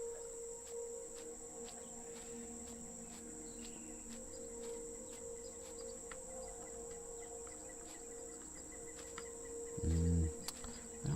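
A cricket chirps in a video game, a faint, steady insect trill with a constant high tone and light clicks over low background hum, with a brief low thump near the end.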